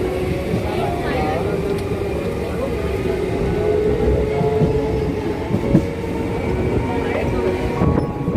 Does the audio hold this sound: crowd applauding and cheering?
no